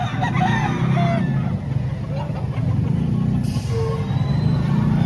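A White Kelso rooster at a busy livestock market crows in short bursts amid clucking fowl, passing vehicles and the murmur of people talking nearby.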